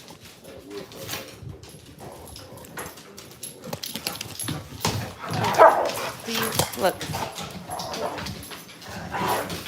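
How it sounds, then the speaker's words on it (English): Several dogs greet each other excitedly before a walk. Busy yips, whimpers and short barks come amid scrabbling paws and movement, and a person says a word. "this is our dogs being all excited about the walk, and they greeting each other with lots of fun stuff."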